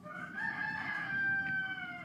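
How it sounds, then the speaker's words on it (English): A rooster crows once in a long, drawn-out cock-a-doodle-doo, loud and close, with no talk over it. "when the rooster stops crowing"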